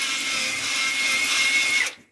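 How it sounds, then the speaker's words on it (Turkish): A newly bought combined power drill and saw tool running in a test of its drill section, a steady high-pitched whine close to the microphone for about two seconds that then cuts off abruptly. "nasıl çalıştığını iş görüp görmediğini daha doğrusu matkap bölümünün iş görüp görmediğini"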